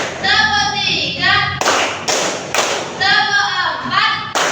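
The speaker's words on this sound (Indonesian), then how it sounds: "untuk memulainya kita tepuk semangat" A school class does rhythmic spirit clapping, with bursts of loud, close, sharp group claps in a steady beat alternating with children's chanting voices.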